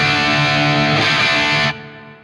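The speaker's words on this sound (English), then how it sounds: "you're just hearing my guitar through my PT15 amp" Electric guitar played through a PT15 amp, the cab miked with a 57 into a Tascam Model 12 mic preamp, with reverb: a loud sustained chord ringing out, then cut off sharply as a short reverb tail fades.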